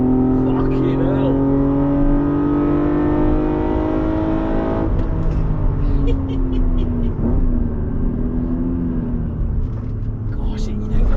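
Individual-throttle-body Toyota Supra MK4 engine on track at Oulton Park, heard from inside the car: loud, sustained rising engine drone through the gears with a shift break midway, under occasional speech.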